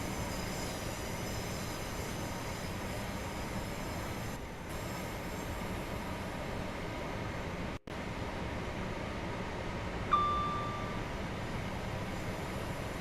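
A Class 805 train accelerates in the Train Sim World 6 railway game, a steady, dense rolling rumble of wheels and traction with a brief dropout midway and a faint high whine near the end.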